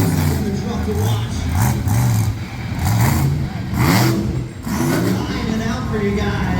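Lumberjack monster truck's engine roars and revs at a Middletown, NY monster truck show, loud and continuous with rising and falling surges beneath an announcer's voice over a PA.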